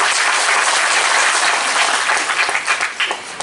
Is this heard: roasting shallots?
no